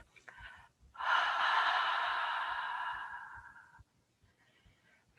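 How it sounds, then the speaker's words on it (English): A person exhales with a breathy, laugh-like Ha sound during a breathing exercise, one long close breath that swells and then fades after a brief inhale. "Exhale with the Ha sound like you're laughing."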